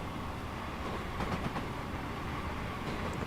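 A Class 390 Pendolino train in Train Simulator Classic rolls along with a steady broadband rumble and a faint wheel-on-rail rattle, continuous and fairly close throughout.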